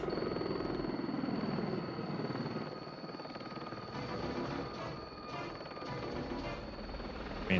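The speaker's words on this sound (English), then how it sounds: "It's a pretty good dogfight with two helicopters, you know?" Helicopters roar through a low-altitude aerial dogfight over a city in the 1983 film Blue Thunder: a loud, continuous rotor-and-engine wash with bursts of rattling, gunfire-like impacts layered throughout.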